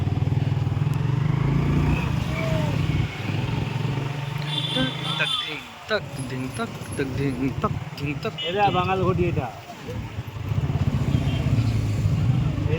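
Two people riding a motorbike along a road, the engine a steady, loud drone that dips briefly midway, with voices talking over it throughout.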